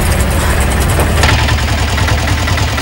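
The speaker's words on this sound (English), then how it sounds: "this tuk-tuk has been running on biodiesel fuel for the past 6 months" A tuk-tuk engine running on biodiesel fuel, heard as a steady, loud idling rumble that stays close and continuous throughout, with no talk over it.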